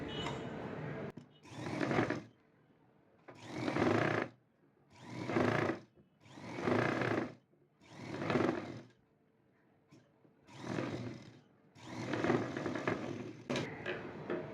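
Sewing machine stitching the hem edge of a blouse, a close, steady whirring hum that runs in about seven separate bursts with short quiet pauses between them.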